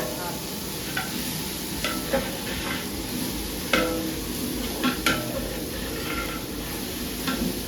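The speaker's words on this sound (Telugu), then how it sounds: "నాకు కొద్దిగా ఇట్లా తిప్పుతా ఉండు" A large pot of chicken curry, five kilos' worth, is stirred over the fire, a soft steady sizzle broken by irregular scraping and clinking strokes of the spoon against the metal.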